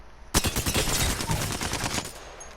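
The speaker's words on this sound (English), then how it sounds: "The next two are an alternator. It's an SMG." Alternator SMG in the Apex Legends video game fires a rapid, even burst of around twenty close, loud shots lasting nearly two seconds, then stops abruptly, with no talk over it.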